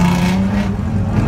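A Mazda RX8 roars loudly and close in a brief, steady burst of engine noise while drifting, with the tone wavering slightly.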